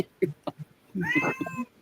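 A pet cat gives a drawn-out, wavering meow at close range, indoors. A few soft, short vocal sounds come before it.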